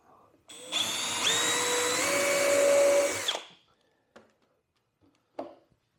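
A power drill boring a hole while building a battery-powered tool organizer: one sustained, loud whining run of about three seconds that shifts pitch partway, then stops, followed by a few faint knocks and clicks.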